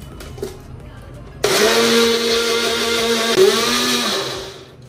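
An electric mixer grinder whirs loudly for about three seconds, starting abruptly with a steady motor hum and grinding roar that briefly dips and recovers before winding down, close by with no talking.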